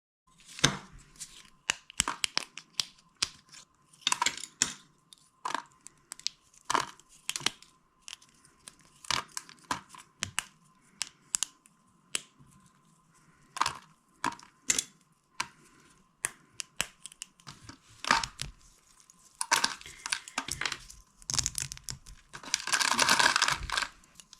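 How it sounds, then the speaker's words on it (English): Cured Resincrete terrazzo being snapped and broken by hand, giving sharp, close cracks and crunches in irregular bursts with quiet gaps, ending in a denser crumbling flurry. "enjoy the sound of this cracking Resincrete"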